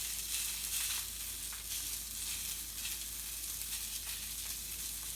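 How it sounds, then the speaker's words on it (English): Steady, crackling sizzle of sausages frying in a hot Lodge cast iron pan, continuous and fairly close, with no voices. "Hopefully you can hear the sizzle."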